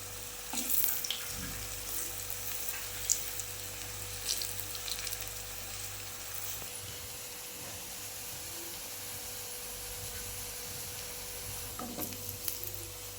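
Raw banana slices deep-fry in oil over a low flame, giving a steady, soft sizzle throughout with faint bubbling crackles and occasional light clinks, and no talk.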